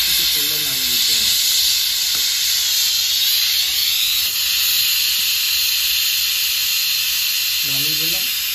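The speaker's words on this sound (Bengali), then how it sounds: "বেজে গেছে, একটা সিটি বেজে গেছে" A pressure cooker holding chicken biryani releases a loud, continuous hiss of escaping steam close by, with brief whistle-like tones near the start and again near the end.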